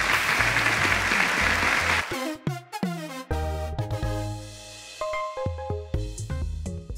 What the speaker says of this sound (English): round of applause to Michael